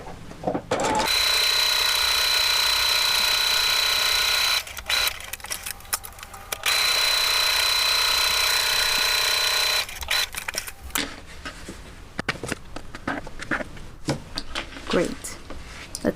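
A sewing machine stitches a homemade fabric face mask with a filter in two sustained runs, each a few seconds long. The runs are loud and close, separated by brief pauses and handling noises.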